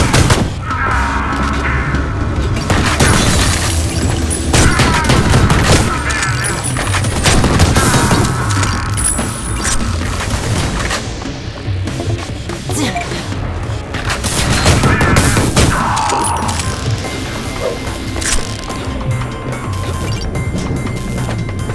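Heavy, continuous game action in Ion Fury: a grenade launcher repeatedly firing with booming explosions and crashing impacts, loud and chaotic across the whole stretch.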